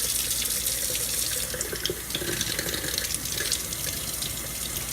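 Tap water runs steadily into a jar of broccoli sprouts as they are rinsed, a continuous close splashing hiss with faint trickles and no voices.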